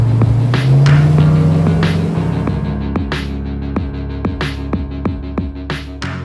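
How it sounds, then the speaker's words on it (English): A 1970 Dodge Charger American muscle car engine revs loudly, then settles into a deep, throbbing lumpy idle with rhythmic exhaust pulses, heard close with no talking. "It is a loud, hard, brutish American muscle car."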